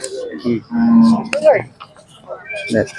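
A Khillar cow at a village cattle fair in Kole, Sangola, Solapur gives a close, loud moo lasting under a second, with other lowing and crowd voices around it.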